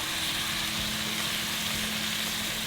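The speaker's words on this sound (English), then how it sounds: "now we're gonna go in with that Guinness, and the bit of alcohol content in here is gonna deglaze everything in the bottom of that pan" Guinness stout poured into a hot pan to deglaze the browned bits for St. Patrick's lamb and cabbage, giving a steady, dense sizzle with a low hum underneath, continuous throughout with no talking.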